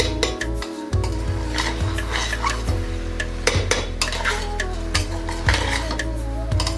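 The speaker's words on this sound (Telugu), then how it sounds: "తర్వాత ఒక్కసారి మెల్లిగా కలిపేయండి" Drained rice being gently folded with goda masala in a pan, a spoon scraping and clinking against the metal in slow, repeated strokes over a steady low hum, close and moderately loud.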